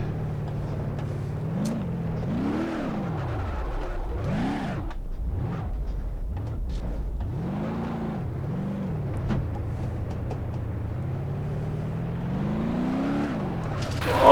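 Gavril Barstow RS car in BeamNG.drive, engine droning loud and near, revving up and down repeatedly with rising and falling pitch sweeps over a steady low rumble.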